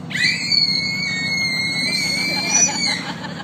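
High, shrill tonal squeals rising and holding like excited children screaming, produced by a dolphin mimicking them, loud and close.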